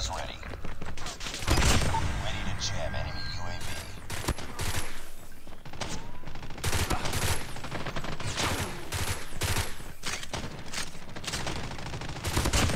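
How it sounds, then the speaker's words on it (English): Rapid bursts of gunfire from a burst-fire weapon in a shooting video game, loud and repeated in short clusters over busy game sound with effects throughout. "This may low-key be, like, the best burst gun in the game."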